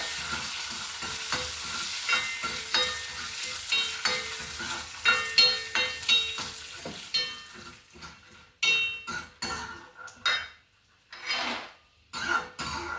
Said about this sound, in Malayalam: നെയ്യ് ചൂടായിട്ടുണ്ട്. അതിലേക്ക് നിലക്കടല തൊലിയെല്ലാം കളഞ്ഞ് വൃത്തിയാക്കി ഇട്ട് കൊടുത്തിട്ടുണ്ട്.